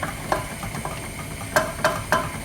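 Whisking Swiss roll sponge mixture in a bowl, with a few soft scraping strokes and then three louder clinking beats of the whisk against the bowl near the end, fairly quiet and close.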